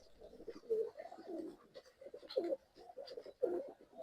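Pigeons at a Bangalore bird sale give repeated soft throaty coos in short bursts about once a second, fairly close and alone with no talk over them.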